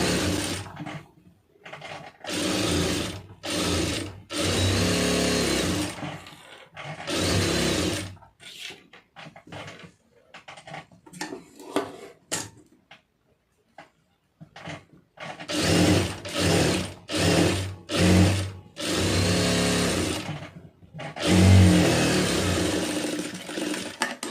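Sewing machine stitching a lined blouse in fabric, running in repeated bursts of fast mechanical clatter with short pauses between runs and a quieter stretch in the middle.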